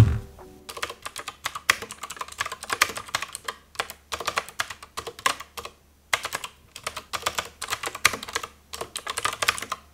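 Rapid bursts of typing on a rechargeable Lofree keyboard, close and crisp clacking keys in quick runs separated by brief pauses, with no talking.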